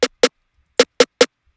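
A snare drum processed through a UAD Pultec EQ snare preset strikes twice, pauses, then hits three more times in quick succession, each hit bright, wide and full with a short decay, close and alone.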